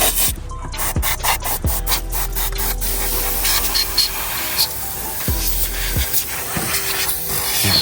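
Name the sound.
spraying cleaner spray on a dirty engine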